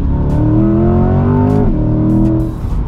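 A Chevrolet Corvette C8 accelerating hard, its loud, close engine note climbing steadily through the revs, with a brief dip near the middle and easing off toward the end, no talking over it.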